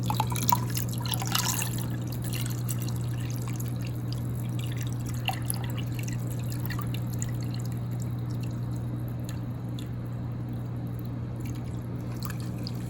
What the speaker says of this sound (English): we again have water flowing. I mean, it's flowing at a pretty good pace